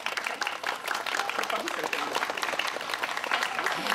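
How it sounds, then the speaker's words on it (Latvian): Applause for a young singer at a Pārdaugava festival naming ceremony, a steady patter of clapping from a modest crowd with voices talking faintly underneath. "Iveta Mielavas laucis sveicam ar aplausiem."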